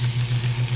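Scallops sear in a hot carbon steel pan, giving a steady, close sizzle and frying hiss that holds even across the moment with no talking.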